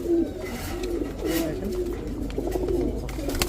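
Several black Gorra pigeons coo steadily in soft, rolling, repeated phrases close by, with low background rumble and no talking.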